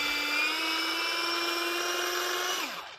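A tiny USB electric mini chopper for garlic or a small onion whirs with a high, steady motor whine for about three seconds, close and alone, then winds down as it stops.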